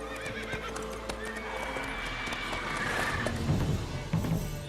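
Roach, a horse in The Witcher 3, gives a loud, close whinny over steady clip-clopping hooves, with a low game ambience rumbling beneath.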